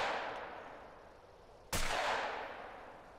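A single loud gunshot fires during a hunt in a video game, a sharp crack followed by a rolling echo that fades out over a steady windy hiss.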